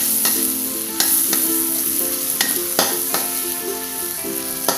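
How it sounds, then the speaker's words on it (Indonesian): Ground spice paste with lemongrass and bay leaves sizzles loudly in a pan for Cirebon-style green chili vegetable dish, with repeated sharp scrapes of a stirring utensil over a constant fry. "diaduk-aduk sampai bumbu harum dan matang"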